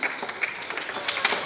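A school assembly audience applauds in a short, dense burst of clapping that stays steady and fairly loud throughout.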